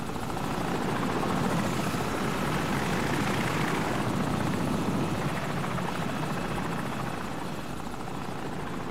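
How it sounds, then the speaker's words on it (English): An enemy helicopter in the video game Call of Duty 4 passes low and close overhead, its loud, continuous rotor thump and engine roar filling the scene and easing slightly as it moves off. "Enemy helicopter! Get down!"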